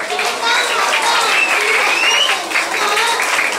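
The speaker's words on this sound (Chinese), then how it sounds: "给他掌声鼓励鼓励" An audience at an official event introducing officials and guests bursts into loud, dense applause, many hands clapping at once for several seconds.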